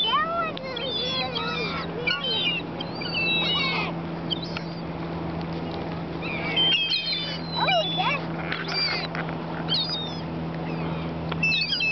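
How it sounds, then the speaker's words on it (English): Seagulls call with wavering, rising cries scattered over a constant low engine-like hum, while people chat nearby. "Look at that seagull."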